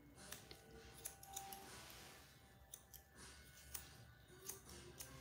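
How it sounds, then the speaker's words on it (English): Steel grooming scissors snip through a poodle's topknot hair in repeated crisp, close clicks at an irregular pace, quiet and without talking. "I'm gonna start taking this with my scissors at an angle"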